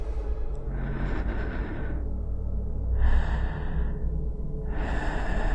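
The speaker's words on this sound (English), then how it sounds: "The shaky breathing." Shaky, trembling breaths in a horror video game, several uneven gasps and exhales rising and falling over a low steady drone, close and fairly quiet with no talk.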